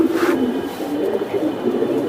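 A Giribaz pigeon coos in a low, repeated murmur, close and steady across the moment with no talk over it.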